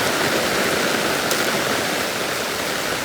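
Heavy rain pours down hard outdoors near a grill, a dense, loud, unbroken hiss of falling water with no break in its steady roar.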